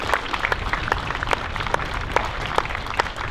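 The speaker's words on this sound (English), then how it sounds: "a big, huge round of applause for you guys as well for supporting both teams throughout the entire year" Spectators at a men's premier league hockey grand final applaud, loose uneven clapping with distinct individual claps standing out over a crowd murmur, moderately close.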